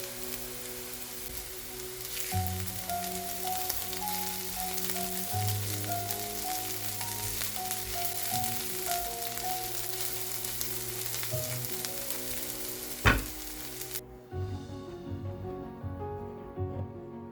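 Onion and garlic sizzling steadily in a pan, a dense crackling hiss running throughout under soft background music, with a clatter near the end as the sizzle drops away.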